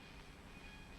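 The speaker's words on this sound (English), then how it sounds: "The rumbling this guy heard was the train going by." A train rumbles by in the video game What Remains of Edith Finch, a faint, steady low rolling rumble that is heard alone for a brief moment.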